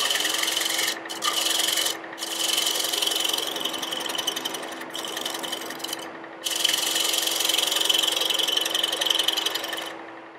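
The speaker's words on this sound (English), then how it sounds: "I should show you his shear scraping tool" A shear scraping tool cutting wood on a lathe, a continuous close rasping scrape over a steady motor hum, broken by several brief pauses as the tool lifts off.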